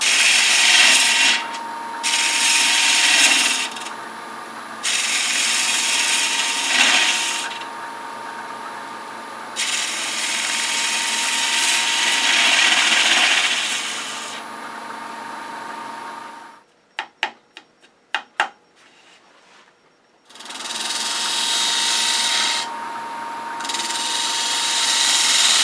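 Norfolk Island pine being shaped on a wood lathe: a loud continuous scraping hiss of the tool cutting the spinning wood in long bursts, with a humming motor underneath, a pause with a few sharp clicks, then more cutting.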